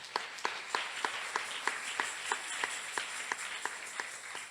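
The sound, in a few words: audience clapping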